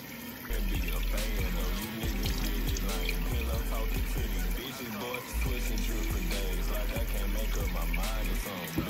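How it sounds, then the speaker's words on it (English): Cold water runs from a tap into a bathroom sink and is splashed onto a face, with steady flowing and repeated wet slaps and splashes close by, over a low background hum. "you gotta throw that cold water back on to close the pores"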